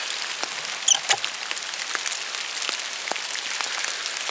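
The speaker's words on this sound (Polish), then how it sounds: "deszcz w lesie jest bardzo fajny" Rain falls steadily through a forest, a dense even patter of drops on leaves with a few sharper, closer drips standing out; no voices are heard.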